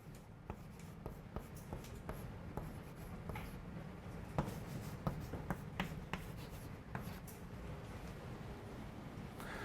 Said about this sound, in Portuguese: Então eu vou escrever uma coisa agora assim.